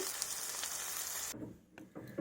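Potatoes sizzle loudly in hot oil, then the frying drops quieter with a few stirring scrapes near the end.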